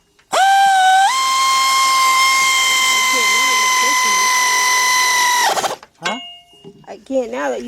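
An air ratchet with a 13mm socket spins on a 2007 Chevy Tahoe during a rear brake and rotor job, a loud close whine held for about five seconds that ends abruptly, followed by brief voices.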